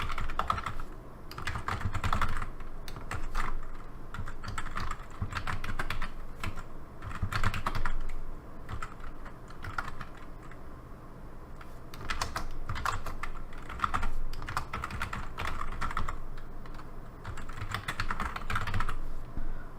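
Steady clicking of computer keyboard keys as someone types code, bursts of keystrokes with brief pauses, close and moderately loud with no talking.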